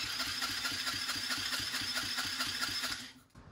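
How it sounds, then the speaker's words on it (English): A Chinese ATV engine spins on its starter during a compression test, giving an even, rhythmic chugging whir at moderate volume that cuts off near the end. "This will allow the motor to turn over and build that compression we need."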